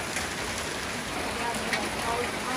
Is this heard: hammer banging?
no